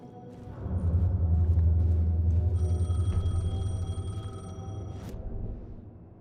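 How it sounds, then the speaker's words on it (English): A payphone rings in the video game Alan Wake 2, a repeating electronic tone riding over a loud low rumbling ambience, steady for several seconds before cutting off. "The payphone was ringing."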